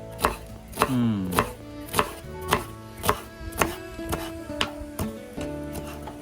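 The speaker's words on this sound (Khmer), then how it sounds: "យើងហាន់ឲ្យវាស្ដើងបែបនេះមក" A knife thinly slices pork fat against a board in a steady rhythm, roughly ten sharp, close strikes, with no talking.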